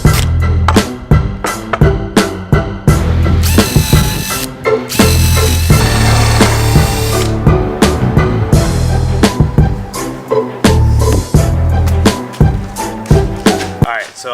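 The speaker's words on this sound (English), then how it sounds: "I drew a line the size of a 2x4 so I could just easily line this up and start drilling." A power drill bores into 2x4 lumber in a garage while building a tool cart, with repeated bursts of loud whirring and grinding separated by short pauses and clunks.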